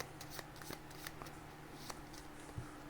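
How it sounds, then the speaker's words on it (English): Marvel United board game card decks are shuffled close by, giving soft riffling and scattered light card snaps over a faint steady hum. "Let's get these decks shuffled up some."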